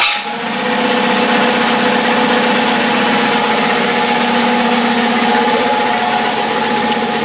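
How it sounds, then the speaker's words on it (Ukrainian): A powerful Baltic-made piston air compressor, fitted with two Zhiguli pistons and used to feed a plasma cutter, runs loud and close as a steady droning hum with whining tones from start to finish, with no talk. "І потужний компресор."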